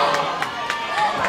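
A packed crowd at a high school swim meet between Woodland Hills and Penn Hills makes a dense, echoing roar of voices and cheers, with rhythmic bursts of shouting in a large indoor pool hall.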